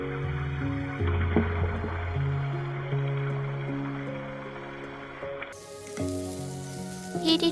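Bay leaves, cinnamon stick, cloves, cardamom and onion sizzle steadily in hot coconut oil inside a rice cooker, a continuous frying hiss running beneath louder tonal background music.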